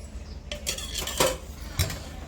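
A utensil mixing mutton with yogurt and oil in a pot, with a few distinct metallic clanks and scrapes against the pot amid soft stirring.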